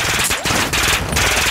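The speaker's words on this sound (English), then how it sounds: "Taking effective fire." Dense automatic gunfire in Call of Duty DMZ, a loud continuous rattle of rapid shots filling a brief moment of combat, close and harsh with no pause.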